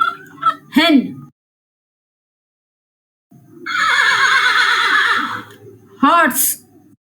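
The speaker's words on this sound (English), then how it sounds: "Horse." A domestic horse whinnies in a long, loud, wavering call between shorter bursts of voice-like sound, heard close with quiet gaps around it.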